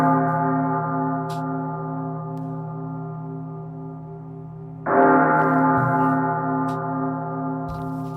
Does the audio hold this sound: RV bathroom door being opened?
no